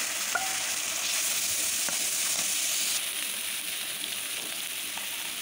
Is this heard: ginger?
yes